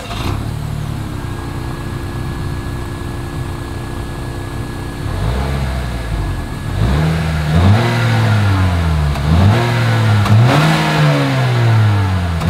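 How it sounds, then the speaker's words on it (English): Exhaust of a 2024 Acura RDX revved in the snow, starting with a steady idle, then a series of rising and falling revs that swell louder and repeat in quick bursts, close by with no talking. "As always, here is that exhaust clip."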